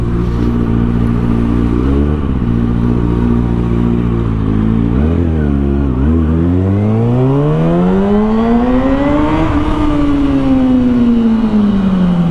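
A motorbike engine in Halo Infinite drones loud and steady, its pitch dipping at a few gear changes and then climbing in a long rising rev before easing off, with no voices over it.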